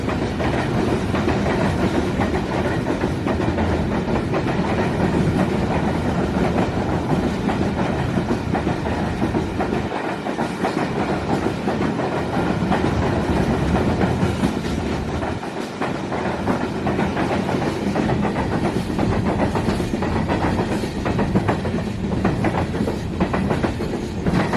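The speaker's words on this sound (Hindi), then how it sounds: "उसी वक्त एक फ्रेट ट्रेन का भी डाउन ट्रैक पर गुजर हुआ" A freight train rolls past on the down track beside a halted express at a station stop in Pakistan, a steady, loud rumble with continuous clickety-clack of wagons over rails lasting the whole stretch, no voices.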